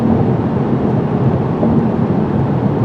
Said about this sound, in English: Even though the tire and wheel noise is excessive, in my opinion, the wind noise is very low.